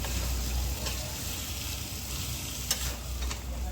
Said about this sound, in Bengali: এভাবে গ্যাসের ফ্লেমটাকে মিডিয়াম আঁচে রেখে এভাবে আমি চিকেনটাকে আমি কষিয়ে নিচ্ছি।